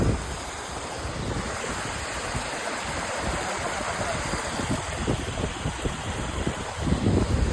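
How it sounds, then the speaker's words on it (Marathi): A broad, continuous roar of a waterfall at Malang Gad fills the scene, steady and rushing, with some wind buffeting the microphone. "धबधबा दाखवतो तुम्हाला"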